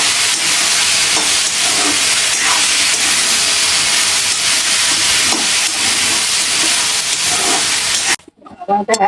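Tomato and vegetables fry in hot oil, a loud, dense sizzling hiss that runs steadily and then stops abruptly near the end, followed by a few clinks.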